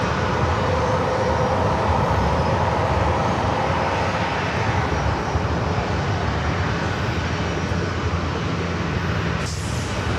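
Airliner in special livery rolling at San Diego airport, its broad engine roar steady and loud throughout with no talk.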